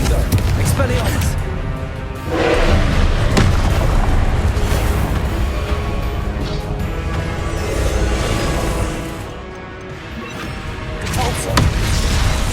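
Repeated Confringo blasting spells exploding in Hogwarts Legacy combat, a dense run of booming blasts and crashes over continuous noisy battle ambience, with a voice shouting spell names throughout.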